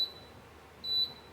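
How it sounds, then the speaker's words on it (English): Two high electronic beeps from a kitchen appliance during omelette and pancake preparation, one brief and one longer and louder, over a quiet room background. "Sorry about the beeping"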